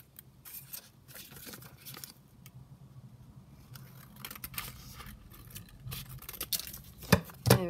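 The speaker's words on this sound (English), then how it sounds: "I will just trim around the acetate to make sure it's kind of the same size as the" Scissors trim around a clear acetate sheet to match a journaling card, a quiet, close run of crisp snips and rustling in irregular bursts, with a few louder sharp clicks near the end and no voices.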